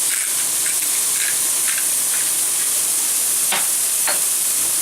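Salisbury steak sizzling in a pan, a constant loud hiss of frying with a few brief scrapes of stirring, no voices.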